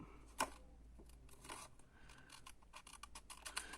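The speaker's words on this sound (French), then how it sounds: "je vais rattraper un peu avec notre cher ami ciseaux" Scissors snip and trim paper for a pop-up butterfly card in a scrapbooking project, a sharp close cut followed by a run of smaller rasping snips and paper rustles.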